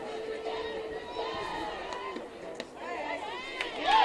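Spectators at a high school 4A sectional softball game between Carmel and Noblesville, with steady crowd chatter and scattered shouts that swell into cheering at the end.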